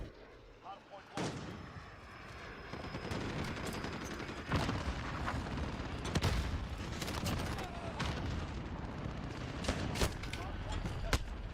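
Shotgun blasts ring out in the Modern Warfare video game, using Dragon's Breath rounds, with repeated loud booming shots over continuous battle noise while a player talks.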